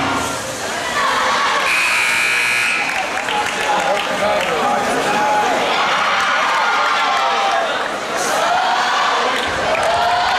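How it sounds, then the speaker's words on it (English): Student cheer sections roaring at a high school boys' basketball game against Triton, loud sustained crowd chanting and shouting in a gym, with commentary speech over it. "Both cheer blocks battling it out too."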